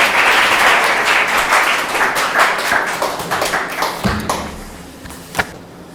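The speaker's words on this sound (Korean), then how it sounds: "앞자리로 모실 때 박수로 환영하며 초청하도록 하겠습니다" Congregation at a Sunday service in a Singapore church applauds to welcome the guest preacher to the front, a dense, fairly loud clapping that thins and fades over several seconds, ending with a few scattered claps.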